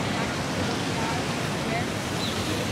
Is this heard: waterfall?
yes